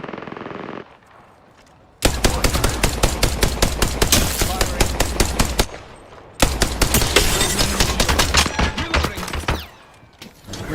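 Rapid automatic gunfire in a shooter video game rattles out in two long, loud bursts separated by short pauses, with sharp repeated shots dominating throughout.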